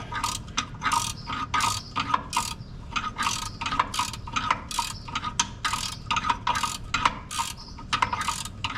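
Steady ratcheting clicks come from a hand ratchet tightening the torque converter bolts on a 1981 Dodge D150 with a 727 TorqueFlite transmission. The clicks repeat in quick bursts, close up and fairly faint, with no talking.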